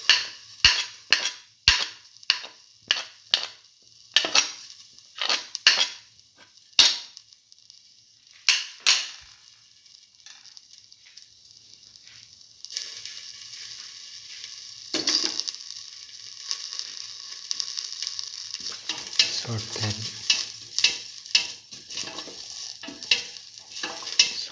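Fennel seeds tumble into a hot pan and get stirred, a run of sharp metallic spoon scrapes and clicks followed by a softer steady sizzle with more scraping stirs, close and without talk.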